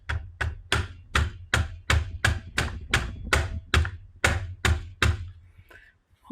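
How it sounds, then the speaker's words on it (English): A mallet drives a tight takedown pin into a Cerakoted AR9 pistol, about a dozen sharp, even knocks in a steady rhythm, close and loud, with no talk. "I'm going to use a mallet to hammer that in"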